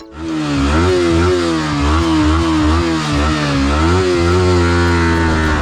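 A Yamaha R15 V4 sport motorcycle revs loudly and close by, its engine note rising and dipping in a steady run of throttle blips with no voices.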